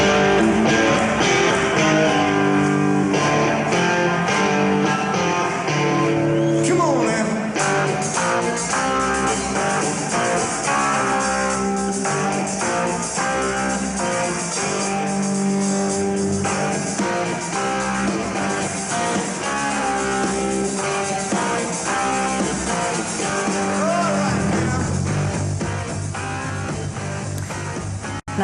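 A heavy, distorted rock guitar riff repeats over a full band with drums, loud and steady throughout with no talking.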